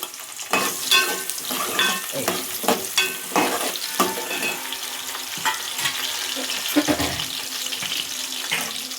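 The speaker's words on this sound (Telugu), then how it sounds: "ఇప్పుడైతే ఉల్లిగడ్డలు వేసేస్తున్నా. నూనె కాగింది." Onions tipped into hot oil in a home kitchen pan for a bean and potato curry, giving a steady crackling sizzle with scattered stirring clatters and a brief burst of running tap water near the end.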